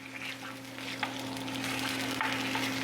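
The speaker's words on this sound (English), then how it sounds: "little bit of sizzle there. That's always a good sound." Chicken pieces fry in a pan with a steady, close sizzle, joined by a few light scrapes and taps as a spoon stirs them, alongside a constant low hum.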